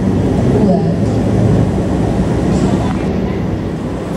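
Steady rumble of the Joglosemarkerto passenger train running into Kroya station in Indonesia, a continuous low rolling roar with faint wheel and carriage noise, close and loud throughout.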